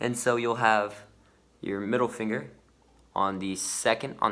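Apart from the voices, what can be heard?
None of the usual background noises is heard.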